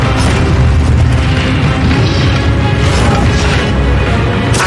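Incendio fire spell cast in Hogwarts Legacy, a loud, sustained roaring burst of flame with heavy low rumble that fills the whole stretch, with crackling surges and no talk over it.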